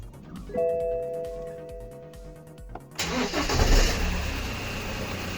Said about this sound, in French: on va déjà pouvoir faire un premier démarrage, histoire que le filtre à huile s'imbibe bien